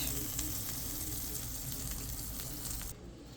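Potatoes sizzle on a Blackstone flat-top griddle in a steady, close, continuous hiss with faint crackle that runs alone and then drops off sharply near the end.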